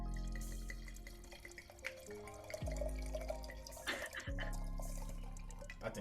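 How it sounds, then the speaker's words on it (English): A drink is poured into a glass, a steady trickle of liquid with drip-like splashes lasting several seconds, close by and partly under tonal background music. "Yes, pour that up."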